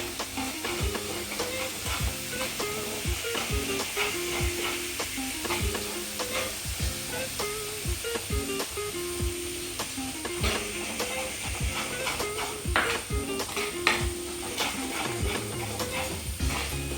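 A spoon rhythmically scrapes and stirs Kottayam-style fish curry masala in a hot pan, giving repeated close strokes about once a second over a steady sizzle.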